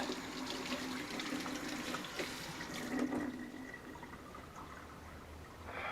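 Tap water runs steadily into a kitchen vessel while gravy is being made, a soft continuous splashing trickle that fades slightly toward the end, with no talk over it.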